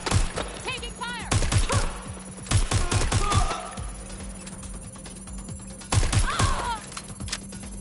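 Bursts of gunfire in the Watch Dogs: Legion video game, several sharp volleys and rapid shots spread across the clip, loud and close, with game voices and chirping electronic effects between the shots.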